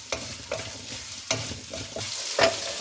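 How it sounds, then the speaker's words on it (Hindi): Sliced green chillies frying with garlic and ginger in a hot pan, a continuous close sizzle punctuated by several sharp stirring scrapes and taps. "और इनको भी इसमें थोड़ा सा फ्राई करें।"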